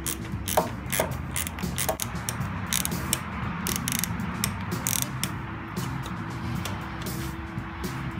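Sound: socket wrench ratchet driving a screw by hand

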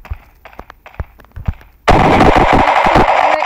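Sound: gunfire from a tactical gun in Pixel Combat video game

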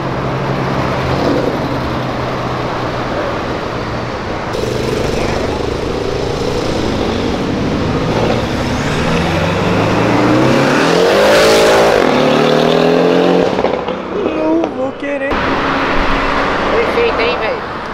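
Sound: car engine revving

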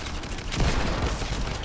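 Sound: gunfire in the video game Fortnite

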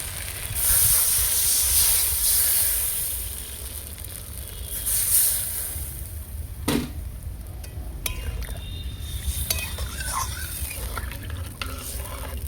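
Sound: water added to sautéed spice paste hissing in pan

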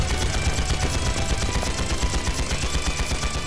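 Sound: gunfire in a video game, Trails into Reverie

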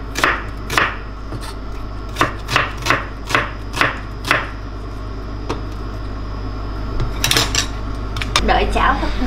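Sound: knife chopping onion thinly on cutting board

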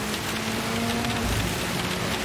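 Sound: torrential rain in Gran Turismo 7 video game

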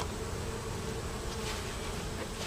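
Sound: honey bees buzzing during hive inspection

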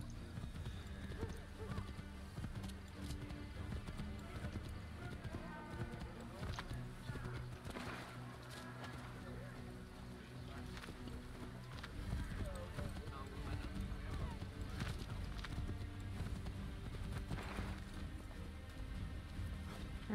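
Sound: horse hooves clip-clopping in video game Assassin's Creed III

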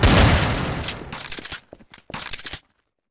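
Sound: gunfire in video game Garry's Mod Trouble in Terrorist Town

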